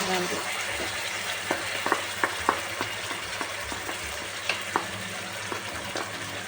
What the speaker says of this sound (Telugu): టమాటా ఉల్లిపాయ నువ్వులు ప్యూరిన్ మొత్తాన్ని దాంట్లో వేసుకొని ఇది మంచిగా మగ్గిపోయి ఆయిల్ మొత్తం పైకి తేలేంత వరకు ఉడకనివ్వండి